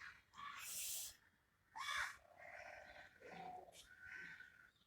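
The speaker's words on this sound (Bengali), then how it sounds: "পাখিগুলো ডাকছে, দেখো কি সুন্দর বুঝছো?" Birds calling outdoors in the cold early morning on an empty street, a crow cawing with a few separate bursts of calls, fairly faint and spread across the moment.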